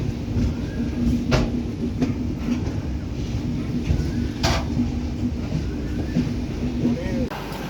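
A train pulls into Madurai station with a steady, loud, close rumble of rolling wheels and carriages that runs throughout, with a few sharper clanks.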